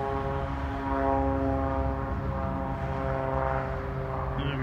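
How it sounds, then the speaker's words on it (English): A propeller airplane takes off nearby, its engine a loud, steady droning hum with layered tonal harmonics that holds strong throughout. "The airplane's taking off."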